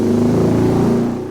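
A Honda Monkey JB03 with a Kitaco 145 engine revs on a dyno during a light throttle check, a loud close buzzing engine note that eases off at the end.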